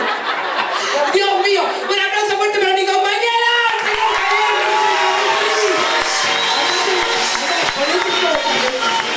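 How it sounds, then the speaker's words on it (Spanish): Festive party crowd at a Día del Amigo event in Argentina cheers and claps loudly after a call for applause, a dense, sustained roar with talk and laughter mixed in. "¡Un aplauso fuerte para mi"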